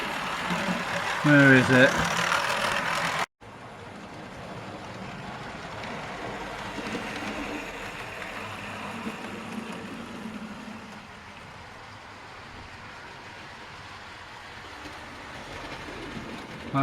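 A model railway locomotive rolls along dirty track with a wheel off, a steady low rumbling clatter that carries on for over ten seconds after a short spoken question near the start.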